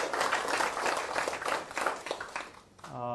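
Audience applause fills a lecture hall, dense, even clapping for a few seconds before it fades out and a voice begins speaking.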